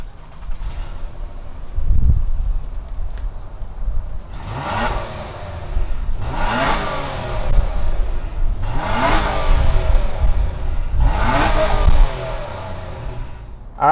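A 2020 Nissan Maxima SL's 3.5 liter V6 starts up, then four loud, close revs rise and fall in a steady rhythm over the idle, with no voices.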